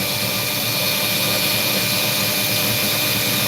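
A solid opal being trimmed with a cutting tool: a loud, steady, continuous whirring grind with a broad hiss, close and unbroken, with no talking.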